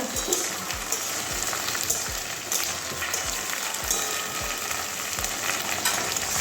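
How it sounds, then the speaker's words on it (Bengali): Okra (bhindi) frying steadily in a pan, a dense continuous sizzle with a few soft stirring scrapes, close and fairly loud with no voices. "হালকা লাল লাল করে ভেজে নেব ভেন্ডি থেকে কাঁচা গন্ধ যাওয়া পর্যন্ত"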